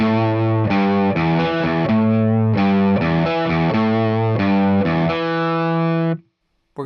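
Distorted electric guitar plays the opening riff of a song, chunky repeated notes in a bouncing rhythm, loud and close, ending on a sustained chord that cuts off.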